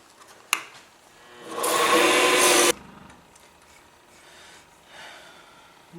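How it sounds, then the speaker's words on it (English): A wooden yo-yo spins on a woodturning lathe while sandpaper is pressed against it, giving a steady loud whirring rasp for about a second before cutting off, with a brief sharp knock before and quieter handling after. "going to sand the yo-yo, and I'm going to start with 150 and work all the way up"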